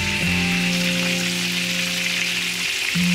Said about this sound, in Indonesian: Ini kalau goreng ikan, jangan dibolak-balik.